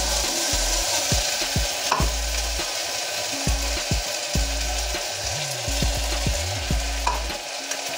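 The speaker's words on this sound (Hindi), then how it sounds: "अच्छे से मसाला को फ्राई करेंगे।" A spoon stirs a ginger, garlic, tomato and cashew masala paste with turmeric as it fries in a pan. A steady close sizzle runs under repeated scraping strokes, with no voices.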